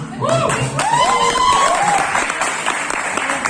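A live audience claps and cheers at a cartoon-character voice mimicry show, with loud, dense applause filling the room continuously while whistle-like calls rise above it.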